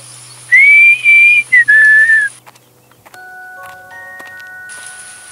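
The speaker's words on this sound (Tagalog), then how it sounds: "nakarinig ng isang matamis na sipol" A clear, sweet melodic whistle rises and holds over a few short phrases, close and loud, followed by faint soft tones and quiet background.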